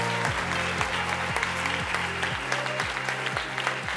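Audience applause at the awards ceremony of the 30th Gérardmer International Fantastic Film Festival, a dense continuous roar of clapping from a large crowd with an amplified pulsing beat underneath.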